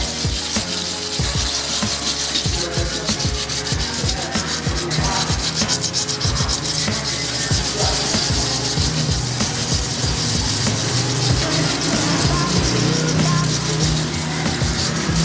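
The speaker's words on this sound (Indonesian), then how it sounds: "pakai air secukupnya diamplas, kemudian digosok ulang sampai merata" Car wheel rim being wet sanded by hand with sandpaper and water, a loud, steady, close rasping scrub with rapid back-and-forth strokes running continuously throughout.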